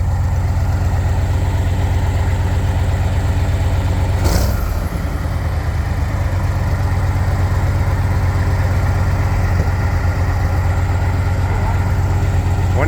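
A Bombardier swamp buggy's engine idles steadily at close range, a low, even rumble throughout with a brief louder burst partway through.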